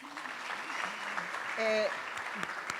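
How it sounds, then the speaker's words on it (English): Applause for a Director General at a program event, a steady broadband wash of clapping under a faint hum, with brief tonal interruptions partway through. "I would like us to give her a round of applause"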